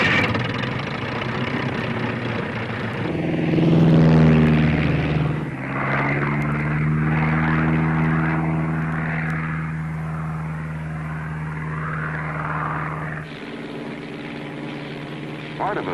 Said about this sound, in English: little plane, a veritable workhorse, was in the air almost more than on the ground